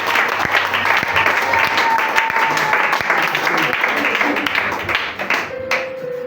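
A church congregation breaks into loud, steady applause, claps dense and continuous, with voices and cheers mixed in before it thins near the end.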